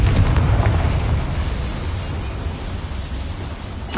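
A Confringo spell explosion in a video game, a loud rumbling blast that fills the clip and slowly decays over about four seconds, with no talk.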